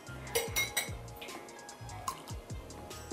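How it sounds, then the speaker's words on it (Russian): A spoon stirs very warm milk in a pot as ordinary 9% table vinegar is added for homemade cheese, producing close metallic clinks and taps at an irregular pace. "Теперь, постоянно помешивая, в наше очень теплое молоко добавляем обычный столовый уксус."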